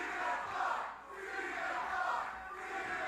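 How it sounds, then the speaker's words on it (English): A wrestling crowd at a Juggalo Championship Wrestling show chants and cheers in support of Stephen Flo. The roar is sustained and swells in waves, and it sounds fairly distant and muffled. "you can hear the crowd right off the jump show their support for Stephen Flo"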